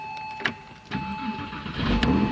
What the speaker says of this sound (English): you're gonna be able to start the car by turning the key